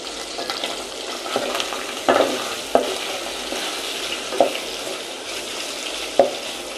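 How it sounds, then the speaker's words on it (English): Beef fries in hot cooking oil in a pot for pilau, a steady close sizzle broken by a few sharp clicks of stirring, with no voices. "So we'll allow our meat to cook before adding onion"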